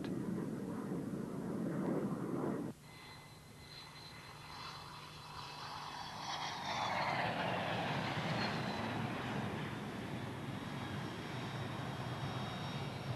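F-111 Aardvark jet aircraft roaring past, a broad loud engine rumble with rising whine that swells midway and lingers, after an abrupt cut from an earlier louder section; no talk.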